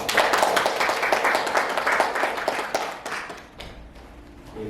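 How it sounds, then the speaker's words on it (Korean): Audience applause at a startup networking event following a lecture, dense clapping for about three seconds and then thinning out and fading, with no speech. "다시 한번 큰 박수."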